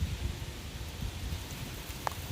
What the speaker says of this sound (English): Ooh, now it's starting to rain.